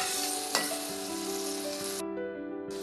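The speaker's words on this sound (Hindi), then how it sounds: "बस यहाँ पे हमने हल्का सा फ्राई करना है" Boiled, softened peas fry lightly in a pan, making a continuous close hiss and sizzle with a single brief tap early on.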